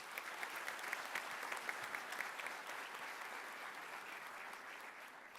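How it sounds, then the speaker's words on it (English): Audience applause at a 2017 college honors convocation, honoring student athletes; a steady, dense round of clapping from a large crowd in a hall, holding even for the full stretch with no voices over it. "Let's give our student athletes another round of applause."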